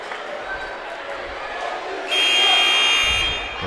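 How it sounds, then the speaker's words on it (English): A loud electronic timeout buzzer blares for over a second at a high school regional boys' basketball game, sounding over gym crowd murmur and an announcer's voice. "There's our timeout buzzer"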